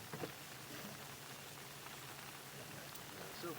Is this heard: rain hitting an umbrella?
yes